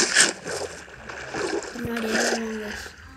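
Water splashing in Minecraft, a few moderate splash bursts with a low game tone running beneath steady background noise.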